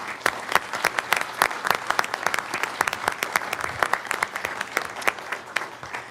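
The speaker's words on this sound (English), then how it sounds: "Let's give Nikki a big round of applause." An audience at a county commissioners' business meeting gives a Hall of Fame inductee a warm round of applause, sustained clapping with many sharp individual claps, moderately loud throughout.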